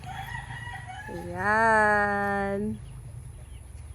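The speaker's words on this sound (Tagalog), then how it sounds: "Ayan po ay gansa" A single pet goose, alone without a mate, gives one loud, drawn-out nasal honk up close, with a brief spoken word just before it and quiet background hum around it.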